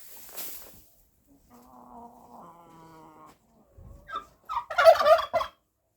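A turkey gobbles loudly and close by in a rapid, rattling burst, following quieter bird calls and a few soft clucks.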